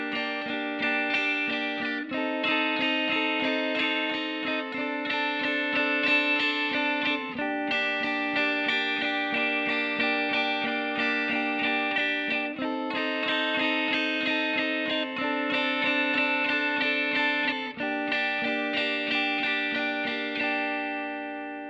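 Electric guitar strums a repeating three-chord pattern from the chorus of a song, steady and full with effects and distortion coloring the tone, played continuously with no voices.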